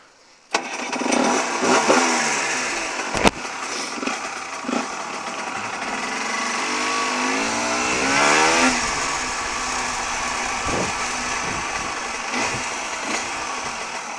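A motorcycle started in gear fires up with a sharp click, then its engine runs and revs through several rising accelerations while riding, close and loud against steady wind rumble throughout.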